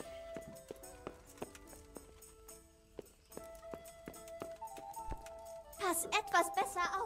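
Soft, steady clip-clop of horse hooves plodding along in the game Kingdom Come: Deliverance, with a bright chiming musical rattle building near the end.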